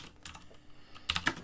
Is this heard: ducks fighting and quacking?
no